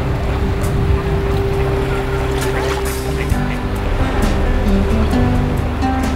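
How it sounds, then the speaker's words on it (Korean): Ocean surf washes ashore at a South African fur seal island, a loud, continuous roar of breaking waves with a low steady rumble underneath, heard close and without voices. "물개섬의 파도는 일렌스베이보다 훨씬 부드러워서 바다로 들어가는 일이 한결 수월하다."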